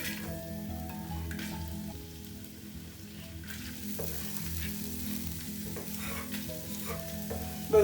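Garlic and ginger fry in hot oil in a pan, giving a steady close sizzle with stirring scrapes, over faint music, ending with a short louder bump.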